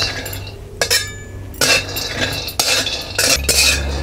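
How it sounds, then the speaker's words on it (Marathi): Peanuts being dry-roasted on a hot griddle are stirred with a metal utensil, producing sharp scraping and clinking strokes at irregular intervals, close and fairly loud, with no talking. "तर आपण तव्यामध्ये शेंगदाणा भाजून घ्यायचं आहे"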